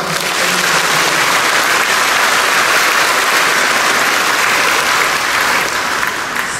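At an official ceremony handing retirement decrees to civil servants in NTT, the assembled crowd gives the retirees a loud, dense, unbroken round of applause that stays steady throughout.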